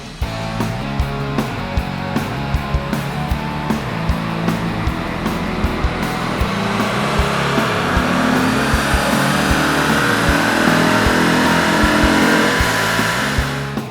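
A car engine on a dyno is run up under load after installing a Sniper Inc tuning product, its loud, strained mechanical roar climbing steadily in pitch and intensity with rhythmic pulsing throughout.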